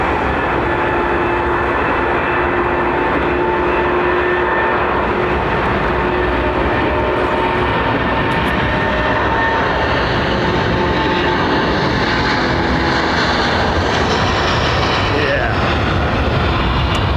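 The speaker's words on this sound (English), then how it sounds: "There's an efficient aircraft if I ever saw one." An aircraft at London Heathrow Airport gives a loud, continuous broadband engine roar that holds steady throughout, with faint tonal whines rising and falling within it. A voice speaks briefly.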